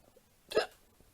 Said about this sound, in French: Je ne peux pas dévorer un agneau qui a le hoquet.